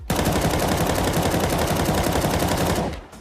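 Rapid automatic gunfire from Counter-Strike 2 weapons rattles out in one loud, sustained burst of closely spaced shots for nearly three seconds, then cuts off.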